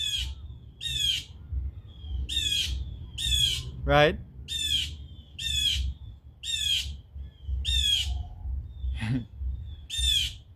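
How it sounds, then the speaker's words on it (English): A blue jay squawks outdoors in a loud, close series of harsh repeated calls at a steady rhythm, with someone speaking briefly between them over a low background hum. "the birds them out in full effect right now. That's a blue jay."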